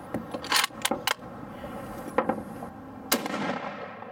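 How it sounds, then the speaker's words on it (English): Rifle fired at a steel brake caliper and disc: several sharp loud cracks, some close together, then two more spaced shots with echoing tails outdoors, no talking. "Let's take a shot at the caliper."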